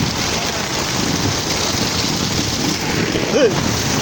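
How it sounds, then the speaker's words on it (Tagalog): Heavy rain pours steadily in a dense, unbroken hiss over a flooded street with traffic, with a brief faint tonal sound near the end. "ang lakas ng ulan"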